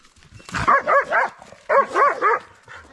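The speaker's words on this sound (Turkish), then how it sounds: "Aynen domuzun başında köpekler." Hunting dogs bay at a wild boar during a hunt in Düzce, Turkey, with two close, loud bursts of three sharp barks each, separated by a short pause.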